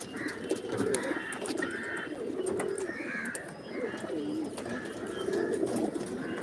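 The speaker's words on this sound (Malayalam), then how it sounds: "വരൂ വരൂ വരൂ പ്രാവുകളെ വരൂ ഓടി വരൂ ഓടി വരൂ" Pigeons at a nest site cooing repeatedly in soft, rolling phrases, several birds overlapping at close range throughout, with no talk over them.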